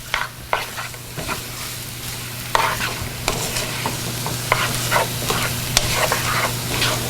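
Eggs stirred in a hot cooking pan in a home kitchen, with a steady sizzle of frying under repeated scraping and stirring strokes, close and fairly loud, no talking.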